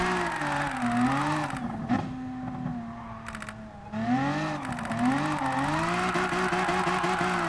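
A race car drifts around a corner in GT Sport, its engine revving up and down in wavering pitch while the tires squeal. The sound cuts out briefly in the middle, then the engine and tires come back.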